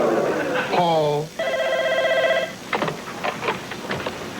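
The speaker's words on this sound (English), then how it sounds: "Phone, Paul." A telephone rings once with a harmonic electronic bell tone in an office setting, followed by people talking nearby.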